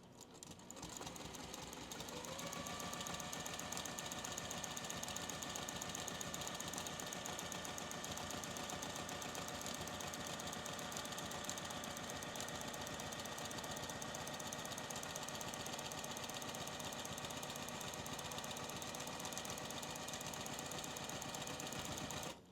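A sewing machine free-motion quilting around a paper template on a stocking pattern, its needle chattering in a rapid, even, continuous run, close and alone after a brief start-up.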